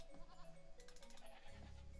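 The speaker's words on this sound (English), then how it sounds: "So there's a sheep." A sheep in a strategy video game gives a short, faint, wavering bleat that sounds like a recording. It is heard close and on its own, with no talk over it.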